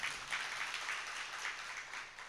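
Audience clapping at a Gujarati religious satsang gathering, a soft, steady patter of many hands heard from a distance throughout.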